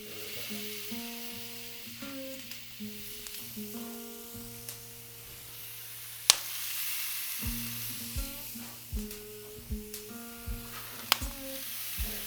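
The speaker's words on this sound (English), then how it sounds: "And hear that sizzle." Pork chops sizzle steadily on a hot grill, a soft continuous hiss, with occasional clacks and tonal hums in the background.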